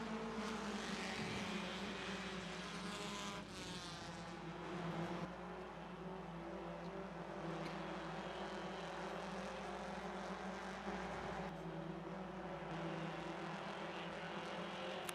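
Stock cars racing on a speedway track, a dense continuous engine roar from a pack of cars, steady and loud throughout with no talking.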